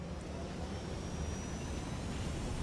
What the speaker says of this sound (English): we got us a helicopter here